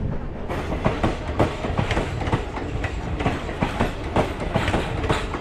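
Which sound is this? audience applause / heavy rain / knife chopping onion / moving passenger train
moving passenger train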